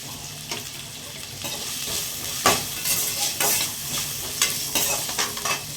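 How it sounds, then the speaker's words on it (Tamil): Onions with a little salt sautéing in a pan for pattani kuruma, a steady close sizzle broken by repeated scraping stirs of a spoon against the pan. "நல்லா வதக்கி விட்டுருங்க."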